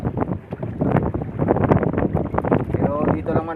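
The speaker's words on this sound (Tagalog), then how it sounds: "At saka yung hangin." Strong midday wind buffets the microphone with a low, rumbling roar under close talking, out on open water near the shore by a fish corral.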